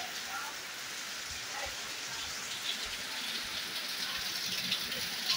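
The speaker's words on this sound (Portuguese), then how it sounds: "Benza Deus que é chuva." Heavy rain falling steadily in the Mamanguape valley of Paraíba, a dense continuous hiss of drops on surfaces that holds at an even, fairly loud level throughout with no break.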